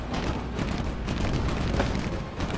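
In a tank video game, a Panzer IV F2's cannon goes off inside a dense, noisy battle mix of continuous rumbling booms and engine noise, with no single distinct shot.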